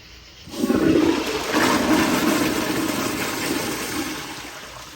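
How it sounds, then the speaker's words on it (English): A 1.6 gpf Kohler Kingston toilet flushes toilet paper down: a sudden loud rush of water that roars for a few seconds, then gradually drains away, heard close up and alone. "And we're going to be doing another flush"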